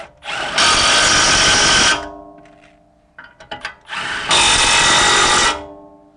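Two long bursts of an impact power tool bolting a brake caliper bracket onto a BMW X3 E83, loud and close, each rising to a steady whirring rattle, with short metallic clicks between them.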